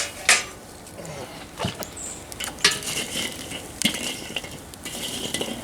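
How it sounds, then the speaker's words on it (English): A chimney starter full of charcoal is tipped into the bottom of a Weber kettle grill, the coals hitting the grate in several sharp, scattered clatters and rattles with quieter scraping between them. "Get a chimney full of charcoal. Fire up. We dump her in the bottom."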